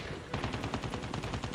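Rapid shotgun blasts in the mobile shooter Call of Duty Mobile, a dense string of loud, punchy shots fired close together in a steady rhythm with no talk over them.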